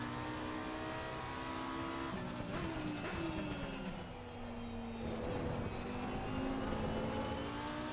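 Lamborghini Huracan EVO lapping the Hungaroring in a racing video game, a steady engine drone with revs rising and falling through gear changes and some tire squeal during power oversteer, with no talk.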